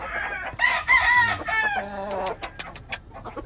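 Chickens and roosters on a farm, with a rooster crowing loudly up close amid clucking hens and scattered short calls, no talking.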